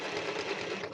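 A sewing machine stitches a paper junk journal tag, a close, steady whirring hum with rapid needle rattle lasting one brief second.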